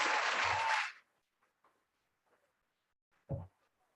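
Applause from a live audience at a crypto event bursts up loud for about a second, then cuts off into near silence, with one short thump a couple of seconds later.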